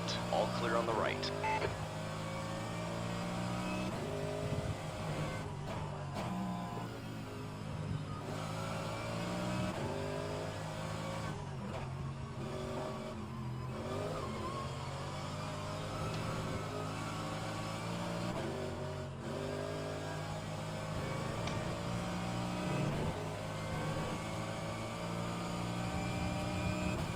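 Race cars driving in the rFactor2 racing game at Virginia International Raceway, engines droning and shifting steadily throughout at a loud, constant level, with a spotter's voice talking over the engine noise.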